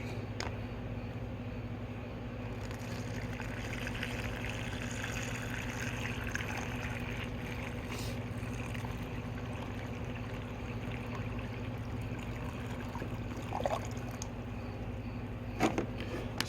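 Water pours steadily into a plastic bag for a long stretch, a soft continuous trickle with a few splashy bumps near the end.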